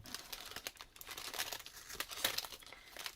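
Fake straw for an Easter basket decoration is snipped and handled close up, giving faint, continuous crinkling and rustling with small crisp cuts.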